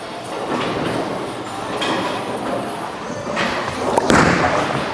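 A 900 Global Eternity Pi bowling ball rolls down the lane with a steady rumbling roll and hits the pins in a clattering crash near the end, in a busy, echoing bowling alley.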